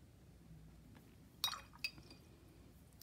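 A piece of handmade watercolor paint drops into a glass, making a faint bright clink followed by a second, softer tap in an otherwise quiet room.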